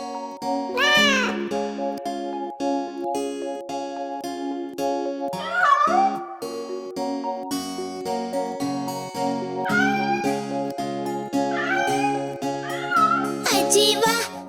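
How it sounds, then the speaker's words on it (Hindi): Cartoon-style cat meows rise out of a bright Hindi children's nursery rhyme tune, several separate mews spread across the song over steady music. "एक बिल्ली हमारी कैसे बैठी बेचारी"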